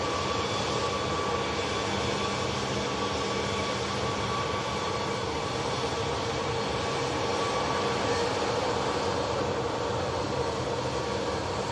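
EasyJet Europe airliner passing at Manchester airport, a steady broadband engine roar with a constant hum that holds loud and even throughout, no voices.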